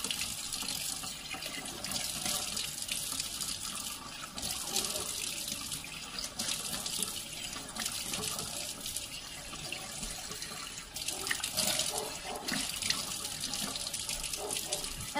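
A kitchen tap runs steadily for a long stretch, water splashing into a sink with a constant hiss and small shifts in the flow.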